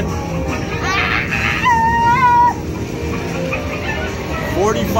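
Clucking, squawking chicken calls from an arcade game machine, several short warbling cries over a steady background of arcade noise and hum, fairly loud and close.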